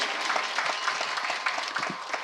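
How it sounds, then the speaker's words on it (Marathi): Dense, even applause from an audience at a temple festival kirtan in Newasa, clapping for the shehnai player and accompanying musicians, steady throughout without a break. "आणि साथीदारांचे मी एकदा जोरदार टाळ्या या सगळ्यांसाठी"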